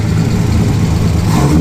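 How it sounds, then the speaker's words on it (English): Ford Capri race car engine running loud and close, a steady low rumble with a slight rise in revs toward the end, no talk. "Let's give her a rev."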